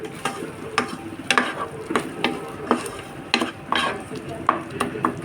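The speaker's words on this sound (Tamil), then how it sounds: "தக்காளி கொஞ்சம் வதங்கினதும் நம்ம இஞ்சி பூண்டு பேஸ்ட் போட்டுட்டு கொஞ்சமாக மஞ்சள் தூள் போட்டுட்டேன்" Ginger garlic paste, tomato and turmeric are stirred and sautéed in a pan for crab gravy, with close, regular scrapes of a spoon over a soft sizzle.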